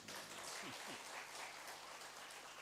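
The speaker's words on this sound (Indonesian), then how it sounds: "Tepuk tangan dong." A room fills with dense, steady applause from a congregation at a Buddhist Sunday service, many hands clapping together without pause throughout.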